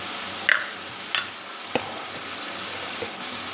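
Spice paste frying in oil for a spiced potato curry, giving a steady low sizzle with a few sharp scrapes of a spoon stirring it in the pan, close and fairly quiet, with no voices.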